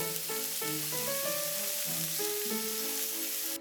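Pork belly frying in a pan, giving a steady close crackling sizzle with scattered pops throughout, with no voices.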